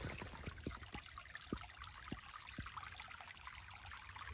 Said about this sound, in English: is the rest of the spring, right there, coming out right there.